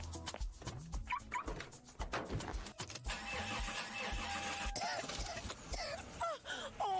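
A car engine cranking and starting within a radio advertisement for engine lubricants, heard close and busy amid layered effects and a low background moan.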